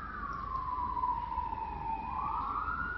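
A wailing siren sounds continuously and fairly loud, its pitch sliding slowly down and then sweeping back up, with no voices.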